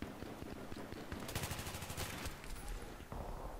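Rapid automatic gunfire in the video game Battlefield 3 rattles in dense bursts under a constant wash of game noise, with a heavy low thump near the end.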